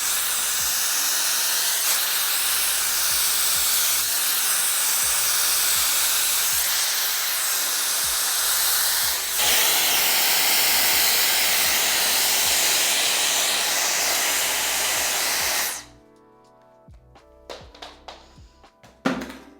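A loud, continuous whooshing blast of hot air from a Dyson Airwrap with round brush attachment runs steadily for about fifteen seconds, then cuts off, leaving faint clicks and handling noises.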